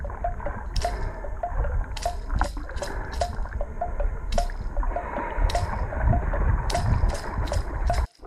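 Kayak paddle strokes dipping into the calm lagoon water of Bacalar, Mexico, with repeated drips, splashes and squishy water sounds close to the microphone, steady throughout and no talking.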